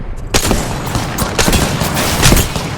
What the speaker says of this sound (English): Getting shot at. Firing. Reloading. Taking fire!